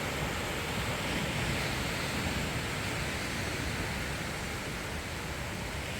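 Sea waves roll in on Kundapura private beach in the early morning, a loud unbroken wash of surf with wind buffeting the microphone.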